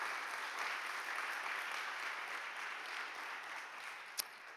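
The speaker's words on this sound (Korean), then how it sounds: "함께 좀 박수로 축하해드렸으면 좋겠습니다" A young adults' worship congregation at a Korean church claps in congratulation, a soft, even wash of applause heard from a distance, with one sharp tap near the end.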